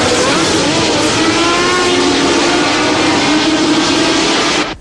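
Formula 1 race cars from the 1976 Fuji race scream past in a sustained loud engine roar that holds steady throughout and cuts off abruptly at the end.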